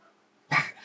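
One short dog bark heard from outside, a quick muffled woof bursting in after near silence and trailing off into a softer whine-like tail.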